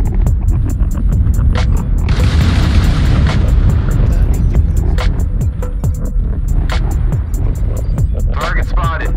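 Artillery-strike explosions in a video game, a dense run of booming blasts and bursts under steady battle noise, with a louder, brighter blast spell near the start and sharp pops scattered throughout.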